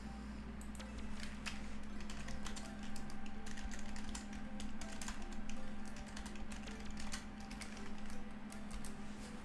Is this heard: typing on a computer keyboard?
yes